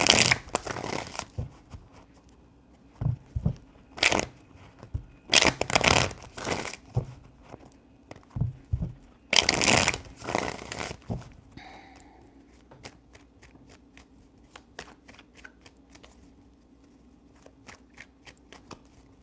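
Tarot cards are riffled and shuffled in several quick bursts, three main rounds of crisp flapping, then softer card handling and taps as things settle.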